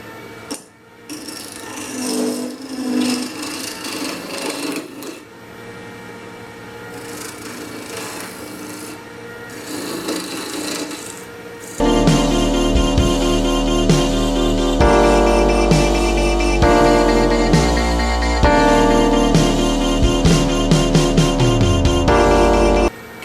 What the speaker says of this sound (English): The scraper's doing a better job.